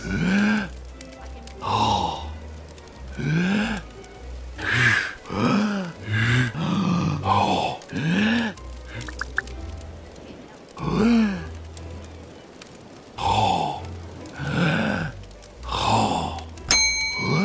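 Gasps, grunts and heavy breaths from a character in the video game Manual Samuel repeat in uneven bursts, loud and close, mixed with throaty groaning sounds.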